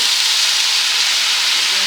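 Water hits a hot pan of frying chicken dumplings, a loud, steady, hissing sizzle with no pauses.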